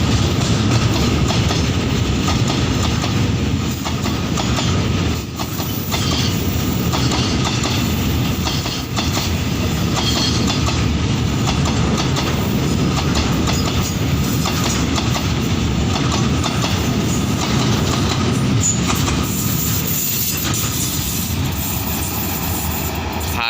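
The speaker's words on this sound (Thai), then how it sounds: "ขบวนรถสินค้าที่ 725" Freight train 725, hauling container wagons, passes close by in a loud, unbroken roar lasting over twenty seconds, with a rhythmic clatter of wheels over the rail joints and no speech.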